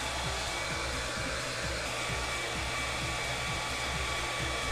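A hairdryer runs steadily and close up, drying a fresh coat of paint on the tracks of a Tamiya B1 bis scale model tank, with a continuous loud blowing whir and no talking.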